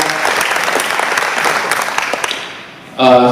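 Dense applause from a club meeting audience fills the room, steady and fairly loud for nearly three seconds, then fades as a voice begins speaking close by.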